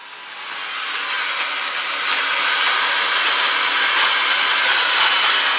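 Static hiss from a radio tuner played loud through a $500 amplifier, a dense, even rush of noise that swells up in the first second and then holds steady.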